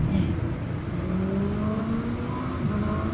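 Motorcycle passing on the Skyway in Manila, a rising engine whine over steady road traffic that climbs and shifts pitch as it goes by, fairly close.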